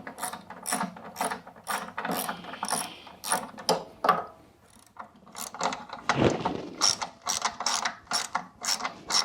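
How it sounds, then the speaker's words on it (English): A 10 mm socket wrench ratchets in quick clicking bursts while loosening the belt guard bolts on an Exmark Commercial 30 mower, close and fairly quiet with short pauses between strokes. "This is the same 10 millimeter socket that we used to take the cover off."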